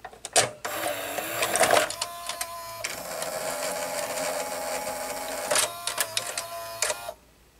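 Toshiba V-M41C Beta VCR mechanism loading a tape, a steady mechanical whir with clicks and clunks at the start, around the two-second mark and near the end, then stopping abruptly; close and fairly quiet, no talk.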